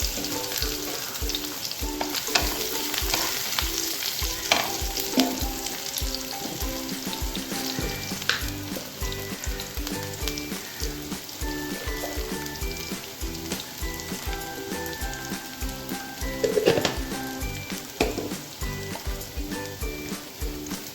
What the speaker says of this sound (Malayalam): കടുക് പൊട്ടിയിട്ടുണ്ട് അതിലേക്ക് അല്പം ചുവന്നുള്ളി ചേർത്ത് കൊടുക്കാം